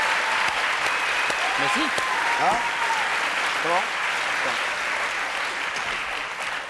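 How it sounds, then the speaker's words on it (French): A studio audience claps steadily throughout a French television variety show, with brief speech from people over the continuous applause. "Applaudissements"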